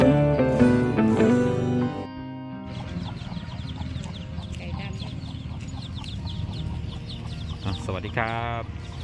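A hen clucks at a morning market in Pai, Mae Hong Son, in close, repeated bursts. People talk and there is other market bustle nearby.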